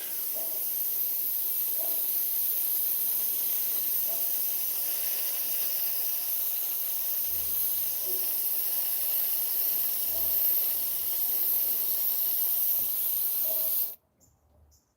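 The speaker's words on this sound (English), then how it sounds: "And now we can start our airbrush." An airbrush sprays paint over a stencil onto a fishing lure, giving a close, continuous airy hiss that holds steady for most of the span before cutting off abruptly near the end, with faint background tones and no talking.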